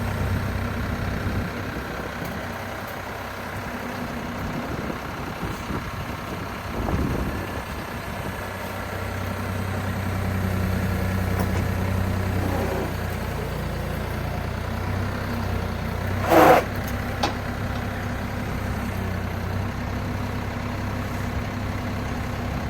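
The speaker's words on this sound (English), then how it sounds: "So I'll grab the tractor, we'll pull over there and load it and see how it does." A heavy tractor diesel engine with pallet forks idles and rumbles steadily for a long stretch, with occasional clanks and a brief sharp knock partway through.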